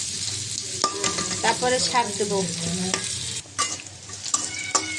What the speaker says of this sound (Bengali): পেঁয়াজ মরিচ ভাজা হচ্ছে